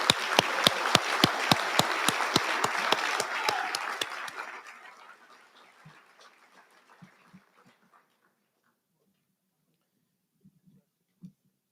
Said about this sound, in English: please join me in a round of applause for the Communications Award recipients.